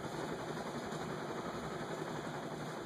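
A 1970s Sanyo EF-56FCP ceiling fan motor runs on its high setting, giving off a faint, steady, even hum with no pauses.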